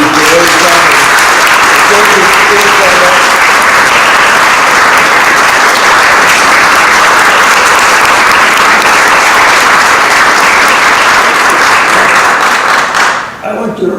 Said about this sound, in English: you got a bigger applause than I did